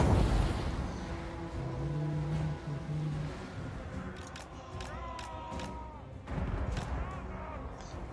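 Cannon fire in the strategy game Total War: Warhammer 2 during a Norsca battle on glaciers, with booming shots and clattering battle effects over a dense din of combat sounds.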